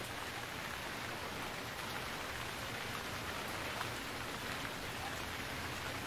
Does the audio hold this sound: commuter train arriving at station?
no